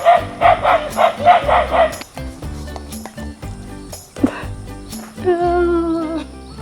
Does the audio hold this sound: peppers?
no